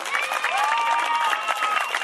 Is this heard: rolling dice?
no